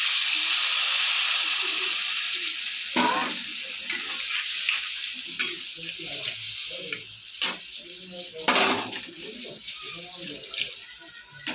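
Water is poured into spice masala frying in a pan with tomato, setting off a loud hissing burst that settles into bubbling and stirring clatter, while a person speaks.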